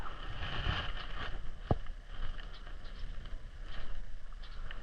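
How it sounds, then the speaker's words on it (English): A popper lure chugs across the water surface on heavy cover, giving a couple of sharp splashy pops amid wind and boat noise outdoors. "Look at we're chugging that bait. It chugs well."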